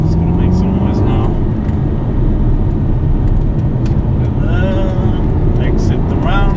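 Engine of a 2008 Aston Martin V8 Vantage on a country drive, a steady loud interior drone that holds throughout, with a voice speaking over it near the end.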